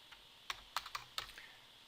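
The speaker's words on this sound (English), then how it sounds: "here I'm going to type it in the chat window" Quiet, close computer keyboard typing, a short burst of separate key taps entering a web link into a chat window.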